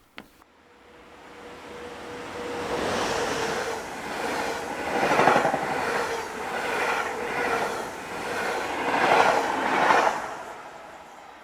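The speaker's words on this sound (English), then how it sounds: "This is the 711 from Quevron to Liège with 1909 as train power." Belgian passenger train from Quévy to Liège, hauled by electric locomotive 1909, passing close by as a swelling rush of wheels and rhythmic clattering over rail joints that peaks repeatedly, then starts to fade.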